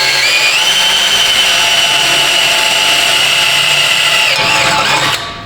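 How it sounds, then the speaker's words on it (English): Loud, close power drill whining steadily as it bores into the metal exhaust resonator of a Dodge Dakota, pitch dipping briefly near the end before it winds down and stops. "We'll take and drill a hole in."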